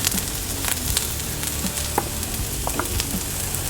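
Onions sizzle on a Blackstone griddle beside steak, a steady close hiss of frying with scattered pops and crackles, no voices.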